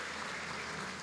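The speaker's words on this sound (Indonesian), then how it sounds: "Tepuk tangan buat orang Tuhan" A church congregation applauding during a service: a continuous, fairly faint wash of many hands clapping together, steady and unbroken.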